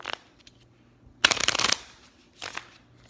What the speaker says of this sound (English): So I'm going to make sure I shuffle this deck